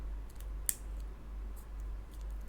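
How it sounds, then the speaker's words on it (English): Scissors snip through the packaging of a Tesla Model S key fob battery, giving a few faint, quick clicks and one sharper cut against a steady low hum. "just to cut around all of this packaging"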